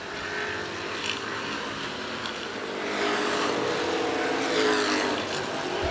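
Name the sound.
street stock race cars racing at Winchester Speedway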